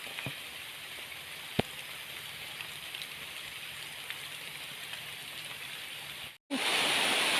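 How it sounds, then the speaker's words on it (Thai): Steady, dense rain pouring down in a constant broadband hiss, with a couple of sharp drips or knocks near the start and a brief dropout near the end. "ฝนตกนักแบบพี่น้องเอ้ย"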